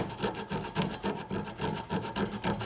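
A hand scraper made from a file works the metal of a spokeshave casting, giving repeated close, rasping scrape strokes in a steady back-and-forth rhythm.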